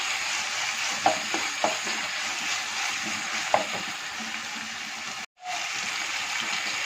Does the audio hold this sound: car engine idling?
no